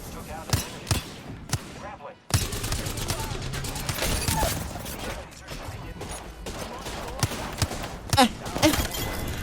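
Hip-fire shots from guns in Apex Legends, a scattered string of sharp cracks and impacts of varying loudness over constant game noise, with a voice talking faintly underneath.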